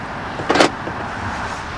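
A 2019 Mercedes-AMG G63 wagon's door locks actuate with one brief, loud mechanical clack burst, close up, against a steady outdoor background hum.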